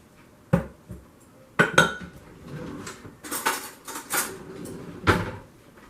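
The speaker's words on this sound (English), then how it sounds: "so I'm going to mix in some sugar here" A spoon clinks against a bowl while stirring sugar into a little water for mead, with a few sharp, separate knocks and scrapes spread over several seconds.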